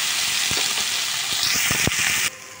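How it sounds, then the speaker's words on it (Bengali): Spice paste frying in a little oil in a wok for a chicken curry, a steady close hissing sizzle with a few sharp clicks of stirring, cutting down abruptly near the end. "মশলাটা কিন্তু ভাজে ভেজে করে নিচ্ছি"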